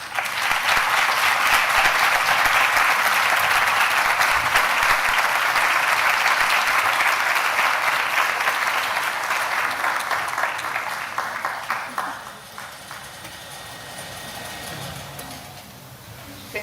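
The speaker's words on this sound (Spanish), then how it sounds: "Recibámosla con un muy fuerte aplauso." An audience at a university anniversary keynote lecture in Puebla gives a loud, sustained round of applause for the arriving speaker, a dense clapping wash that holds for about twelve seconds before thinning and fading.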